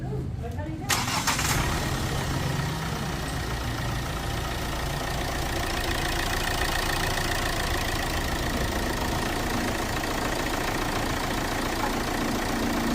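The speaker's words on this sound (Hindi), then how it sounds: "engine sound" Hyundai Creta engine after an overhaul, cranking and catching, then settling into a steady, loud idle rumble that runs close and continuous, with people talking over it.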